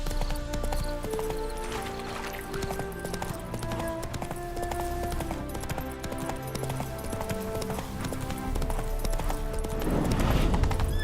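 Horse hooves clip-clopping steadily at a walk in the video game The Witcher 3, a rhythmic clatter under soft music, with a brief snort or whinny near the end.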